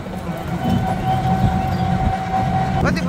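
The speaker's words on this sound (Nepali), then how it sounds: "दार्जिलिङ कालोको ट्रेन यहाँ आता है ना" Darjeeling toy train passing nearby on the hill railway, a steady loud rumble of wheels and wagons with a sustained tonal whine and rattling, people talking faintly underneath.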